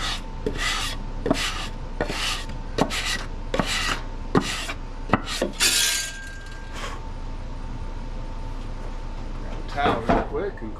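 Sandpaper rasps in regular back-and-forth strokes across the warped head of a John Deere X540 mower engine, close and rhythmic, with someone talking between strokes and a brief clink in the middle.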